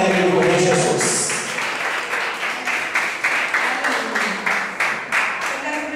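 A church congregation claps to welcome a woman preacher, loud scattered applause that settles into a steady rhythmic beat, one clap roughly every half second.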